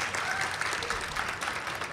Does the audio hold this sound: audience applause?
yes